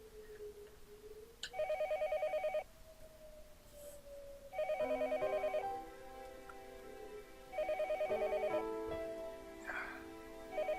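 A telephone rings downstairs in a visual novel scene, sounding in three bursts of bright electronic trilling separated by pauses, alone over a soft background of music tones.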